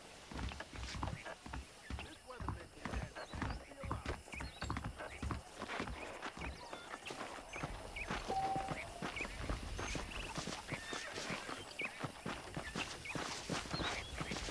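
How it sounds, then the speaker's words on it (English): Horse hooves clip-clopping at a steady walking pace in the Xbox 360 western game Red Dead Redemption, with tack jingling and other ambient game sounds and people talking over it. "The horses are saddled up over here."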